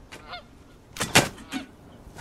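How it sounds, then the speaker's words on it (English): Honking duck in the Skyrim video game as a guard shoots it: loud, nasal game-bird calls in short bursts, with one strong squawk near the middle, alone with no talk. "Oh, he shot the duck!"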